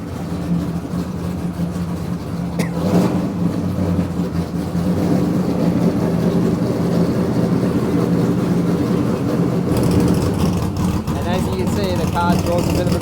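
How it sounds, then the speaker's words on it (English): Original Dale Earnhardt number 3 race car firing up at Daytona, a loud, heavy low engine rumble that runs steadily and swells midway, with people talking nearby. "We're going to start up a Dale number 3 original car."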